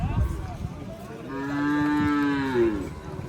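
A single cow lows once at a rural cattle market, a clear drawn-out moo up close over faint outdoor background noise.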